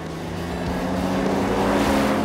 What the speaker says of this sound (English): I don't think I've ever been in a car as fast as this.